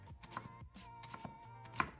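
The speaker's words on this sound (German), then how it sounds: "Als nächstes schnappe ich mir die Zwiebel und schneide sie in kleine Würfel." A knife chops an onion into small cubes on a cutting board in quick, uneven taps, close and fairly quiet, with a brief pause partway through.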